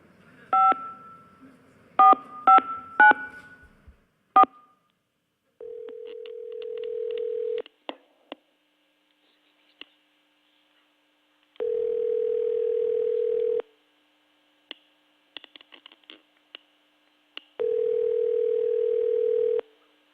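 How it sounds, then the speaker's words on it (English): Telephone keypad touch-tones sound first as a quick run of short beeps. Long, steady tones follow, three times, each lasting about two seconds with quiet gaps between, with no one speaking. "I'm going to dial a number now."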